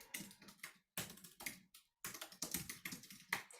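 Typing on a computer keyboard in bursts of quick key clicks with short pauses, close and fairly quiet, with no talking.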